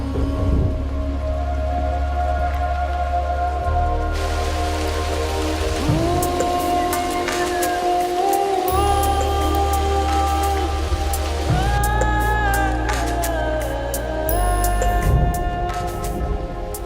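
Steady rain falls throughout, a dense continuous patter that stays loud and even from start to finish with no voices.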